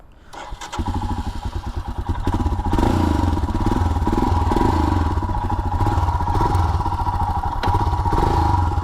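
A Royal Enfield Himalayan BS4 motorcycle cold-starts with a brief starter crank, then settles into a loud, close, rapid single-cylinder thump that holds steady at idle with slight dips.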